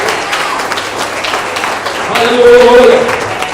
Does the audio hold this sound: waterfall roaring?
no